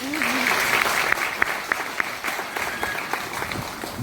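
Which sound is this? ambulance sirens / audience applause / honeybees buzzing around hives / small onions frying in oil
audience applause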